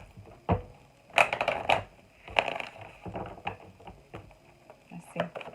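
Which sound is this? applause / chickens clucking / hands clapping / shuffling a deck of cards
shuffling a deck of cards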